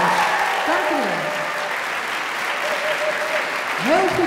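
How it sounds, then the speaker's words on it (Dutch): Steady audience applause fills the room after a dance school group finishes its part of an end-of-year show, with a few voices and cheers rising over the clapping near the end. "Grote applaus."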